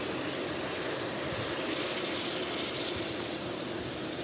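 A Boeing 787 Dreamliner arriving at Manchester Airport produces a steady, broad jet roar that stays constant, fairly distant and moderately loud, with no talking.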